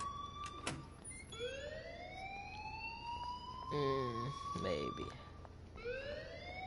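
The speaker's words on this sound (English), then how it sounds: "please turn off that alarm since that's your job" An alarm rings in the video game Life is Strange, heard as repeated rising, siren-like electronic sweeps over a constant noisy background, with a brief spoken word partway through.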